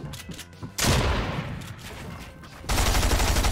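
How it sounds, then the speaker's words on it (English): SMG fire in the Fortnite battle royale bursts out in loud, dense volleys, one long burst followed by another sharp onset, close and harsh with little talking audible. "that SMG is not welcoming you at all, Foiler."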